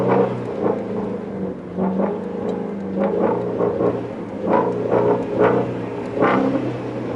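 Shelby GT350 V8 revving hard through a snowy drift, the engine note rising and falling in repeated throttle bursts with a steady rumble underneath and no one talking.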